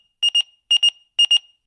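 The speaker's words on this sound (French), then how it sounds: "Eh oui, une pagette, un téléavertisseur, ou comme on disait dans le temps, un page." A pager beeps three times, each a quick cluster of bright, clipped electronic tones separated by short silences, clean and close with nothing else heard.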